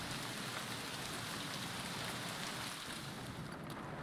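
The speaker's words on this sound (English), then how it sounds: "It is raining in game, so we get that wonderful pitter-patter of rain." Steady, dense rain patter with a constant hiss of drops in the video game Escape From Tarkov, continuous and even throughout, no voices.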